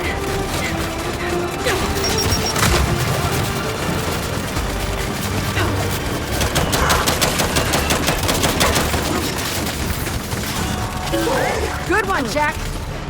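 In a Gears 5 firefight, bursts of gunfire and a frag grenade blast ring out over a busy game soundtrack, with rapid repeated shots, clattering mechanisms and characters shouting throughout.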